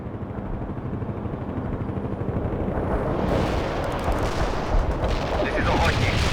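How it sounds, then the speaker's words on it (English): Dense gunfire and rolling artillery barrages in World in Conflict, a loud continuous roar of shots and blasts that thickens toward the end, with radio voices heard faintly under it. "Stay on the move to avoid those barrages."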